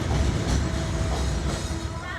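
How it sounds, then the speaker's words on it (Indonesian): A train rolls along rails running through a crowded trackside kampung in Dupak, with a loud, steady rumbling roar and thin metallic squealing tones throughout. "suara rel kereta mulai berdecit, tanda kereta akan segera lewat"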